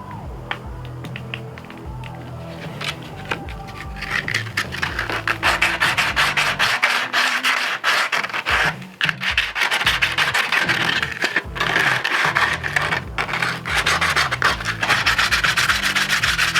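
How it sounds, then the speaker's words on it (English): Hand sanding over a hardened ramen noodle and glue repair on a Jeep, with dense, rapid scratchy rubbing strokes that run continuously at close range and grow louder and rougher in the second half. "I'm going to go ahead and clean this up, sand it up, and see what we got."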